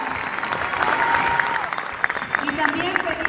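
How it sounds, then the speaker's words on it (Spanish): Loud, dense audience applause at a Mexican folk ballet marathon in Xalapa, with cheering voices and crowd chatter mixed into the clapping throughout. "también merecen un fuerte aplauso de todos nosotros"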